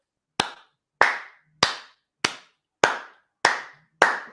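Seven sharp single hand claps spaced about half a second apart, a deliberate slow clap, crisp and close with short decays and silence between.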